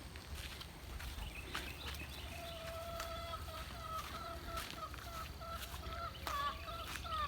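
Chickens out in a backyard garden, with scattered soft clucks and chirpy calls over steady outdoor background noise, moderately near.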